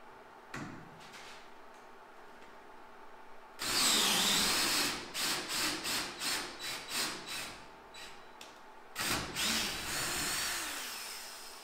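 Power drill driving metal screws into a fabricated rear door of a 1997 model vehicle, a near, loud burst of several short pulsing whirs followed by a pause and one more drilling burst, with no talk.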